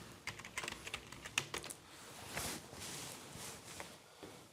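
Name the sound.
typing a password on a computer keyboard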